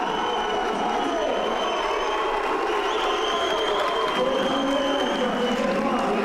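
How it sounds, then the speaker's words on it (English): A large, vocal hometown crowd cheers steadily at a super middleweight professional boxing bout in London's York Hall, a dense, continuous roar of voices and applause that holds at full volume throughout. "Big Mac helped attract a large and vocal hometown crowd"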